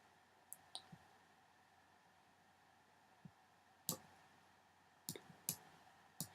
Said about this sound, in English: So we're just clicking